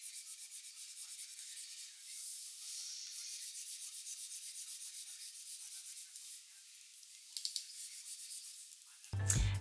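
Pen nib drawing across the matte screen of an XPPEN Artist Pro 14 pen display, a steady soft scratchy rubbing with stroke-by-stroke pulses, close and quiet, ending in a brief louder knock.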